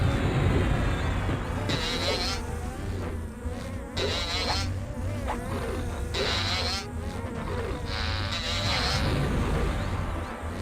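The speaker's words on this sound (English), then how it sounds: "He sounds so bee-like." Bee-like buzzing of a monster in the EverQuest video game, a steady insect drone with repeated rising high whines, loud and continuous throughout.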